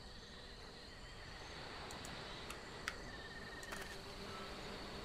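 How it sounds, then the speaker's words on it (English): Bees buzzing in The Book of Unwritten Tales, a steady insect drone that holds at an even level throughout, with a few brief clicks and tones on top and no voices. "Quick, while Cheap Cheap's distracting the bees."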